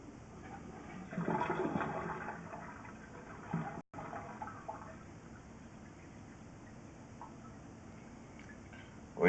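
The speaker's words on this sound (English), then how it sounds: "go ahead and flush the toilet so that'll go down" A toilet flushes during a sewer camera inspection at a house, water rushing and draining for several seconds before settling into a quieter trickle and refill, heard alone without talking.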